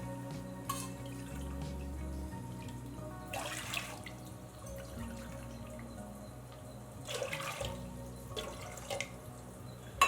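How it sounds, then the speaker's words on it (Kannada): Water being poured into a pressure cooker for wheat payasa, soft trickles and drips in short bursts over a low steady background hum, near and fairly quiet, with no voices. "ಕುಕ್ಕರಿಗೆ 5 ಕಪ್ನಷ್ಟು ನೀರು ಹಾಕ್ಕೊಳ್ಳೋಣ"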